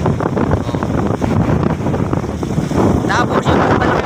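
Strong, steady wind buffets the microphone outdoors near Tagaytay, a loud continuous rumble with gusty surges throughout and faint sounds of voices and movement underneath.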